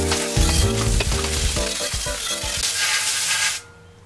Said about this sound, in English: Take a garden hose and just hose it off.